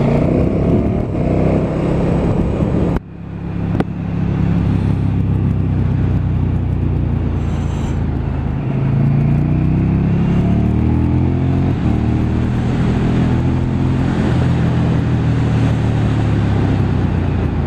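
A KTM 1290 Super Duke R 2018 motorcycle ridden in first gear, a loud continuous engine drone with a brief drop near three seconds, then rising revs with wind roar, no talk.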